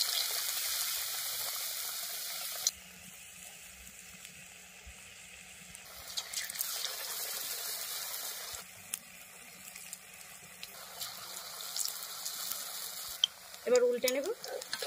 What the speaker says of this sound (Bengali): তেলের মধ্যে ছেড়ে দেব